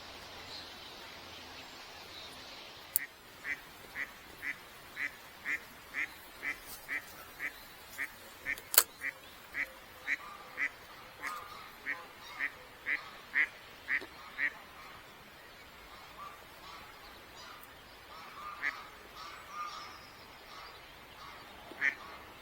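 A duck quacks in a steady run of evenly spaced calls near a riverside fishing spot at Earith, moderately close and clear, tapering into softer, looser calls toward the end with faint background noise.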